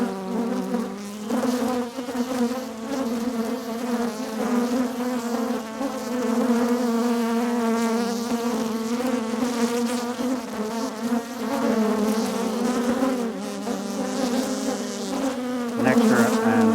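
Honeybees swarm densely around open hive frames, a loud, close, unbroken buzzing drone that fills the space, with bees crowding right against the microphone throughout.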